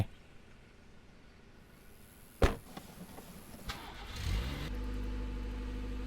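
A car engine in the Contraband Police video game starts up with a sharp thump, then revs and settles into a steady, loud idle drone that carries through to the end.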